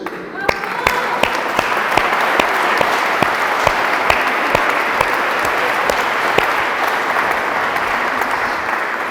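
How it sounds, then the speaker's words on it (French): A wedding congregation applauds steadily inside a church, dense sustained clapping with sharp individual claps standing out, continuing throughout. "Alors, on a aussi le droit d'applaudir le Seigneur qui est la source de tout amour."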